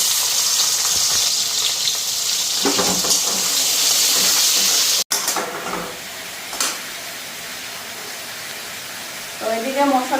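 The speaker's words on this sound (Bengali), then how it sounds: "এখন এটাকে ভাজা বসাইয়া দিয়ে আনি" Washed, cut dried fish (shutki) sizzles loudly and steadily in a hot pan for several seconds, then the sound drops to quieter frying with faint background noises.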